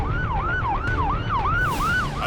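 Ambulance siren wailing on the Coquihalla Highway near Merritt, BC, on a freezing night, sweeping up and down in steady repeated cycles, loud and close over a low road rumble.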